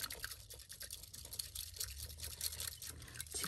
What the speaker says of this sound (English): and you're gonna whisk it